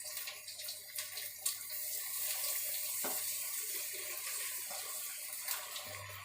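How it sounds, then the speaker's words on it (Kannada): About half a glass of milk pours into a cooking pot as a quiet, continuous liquid stream lasting several seconds, with faint kitchen background. "ಆ್ಯಕ್ಚುಲಿ ಹಾಲು ಆ್ಯಡ್ ಮಾಡ್ಕೊತಾ ಇದ್ದೀನಿ ಸ್ವಲ್ಪ"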